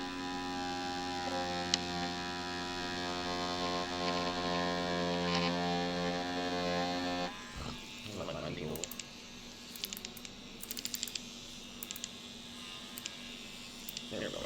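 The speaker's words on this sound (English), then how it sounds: "I've given myself tattoos with this machine, and it works perfectly fine." A tattoo machine runs with a steady electric buzz for about seven seconds and then stops, followed by quieter handling clicks and faint background noise.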